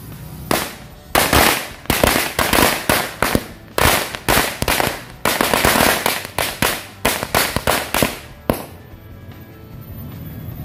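A pack of mercon firecrackers goes off in a rapid, irregular string of loud, sharp cracks that lasts about eight seconds and then stops abruptly. The bangs are close and there is no talk.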